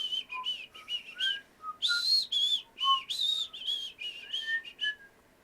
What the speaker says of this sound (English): that whistle tune is the only whistle tune I know